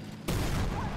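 A tank cannon fires in the online game Armored Warfare, with a KPZ-70 in play: one sudden, loud blast that stays as a sustained heavy roar to the end.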